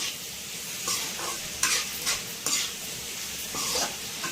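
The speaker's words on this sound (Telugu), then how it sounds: "ఒక 5 నిమిషాలు అలా వేపేసుకొని స్టవ్ ఆఫ్ చేసుకుందాం" Cooked mutton lungs stir-fried in a pan: a steady close sizzle of oil, broken by several bright scrapes and clinks as a spatula stirs the meat against the metal, with no talking.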